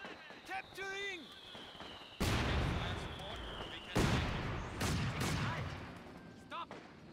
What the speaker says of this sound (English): Panzer firing on us!